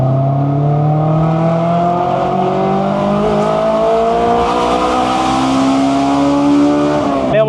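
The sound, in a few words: Honda S2000 engine revving in second gear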